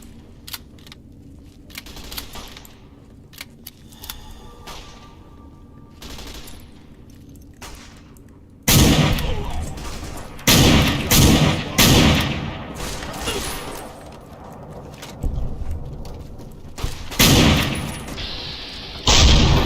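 A shootout in the Fallout New Vegas video game: scattered quieter shots at first, then loud, close bursts of rapid gunfire that come in repeated clusters and keep going to the end.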